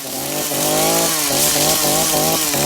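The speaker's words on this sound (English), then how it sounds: "Wendy pulled out a chainsaw from the car." A chainsaw revving close and loud, its harsh buzzing engine rising and dipping in several quick surges.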